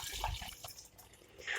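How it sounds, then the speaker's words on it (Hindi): Water poured from a ladle into a cooking pot for a mango and banana squash, a brief close splash and trickle with a soft slosh at the end. "अब यही वाले 2 डोंगे मैंने भर के इसमें पानी के डाल दिए हैं।"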